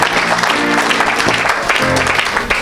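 A church congregation at a Sunday service claps loudly and continuously, a dense close wash of applause with some voices mixed in.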